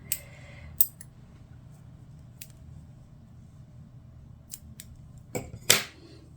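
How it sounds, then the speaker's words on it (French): Scissors snip crochet yarn in a quiet room: a couple of crisp isolated cuts early on, then two quick sharp snips close together near the end. "Je fais une maille en l'air et je coupe le fil ici."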